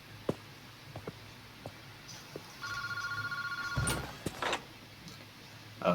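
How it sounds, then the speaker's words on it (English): A phone booth telephone rings in the Paranormasight video game, a sharp electronic ring that sounds about a second and a half among scattered ticks and clicks, then a few louder knocks. "Did no one teach you to pick up the freaking phone when it rings?"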